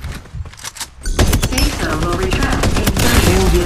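Gunfire in the battle game Farlight 84 opens with a few scattered shots, then bursts into loud, rapid automatic fire that hammers on without a break, with faint game voice lines mixed underneath.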